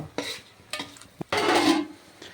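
A ladle stirs raw prawns and masala in a pan, producing a few close scraping and clinking strokes followed by a longer, softer sizzling swirl, with no voice present.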